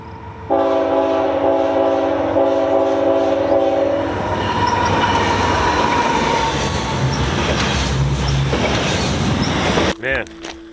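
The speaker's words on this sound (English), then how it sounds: "trains are loud as shit" A loud train passes close by on the tracks. A sustained horn blast gives way to heavy rumbling and clattering cars that run at full volume before cutting off abruptly near the end.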